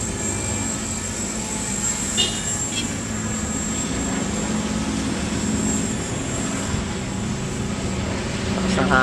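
Light aircraft engine idling steadily at about 3,000 RPM on a windy ranch, a continuous droning hum with wind noise, with people talking intermittently over it.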